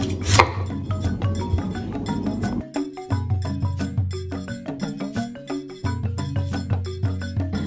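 A knife slicing through broccoli stems on a chopping board, making a quick run of crisp, close taps and cuts in an uneven rhythm with brief pauses between strokes.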